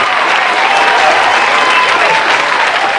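A crowd claps loudly and continuously for a football team's offensive line, a dense, even wall of applause with no pauses.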